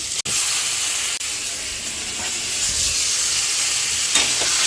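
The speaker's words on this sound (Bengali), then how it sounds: "বেগুন ভাজা হয়ে গেছে। এবার দিয়ে দেবো টমেটোগুলো" Tomatoes drop into a pan of frying eggplant, setting off a broad steady sizzle and hiss with a couple of sharp clicks and stirring scrapes, close up and without talk.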